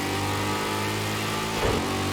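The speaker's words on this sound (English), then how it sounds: "Just using engine braking for most of that." An LMP3 race car in Project Cars 2 engine-brakes, a steady mid-pitched engine drone holding loud and constant with a brief rise near the end.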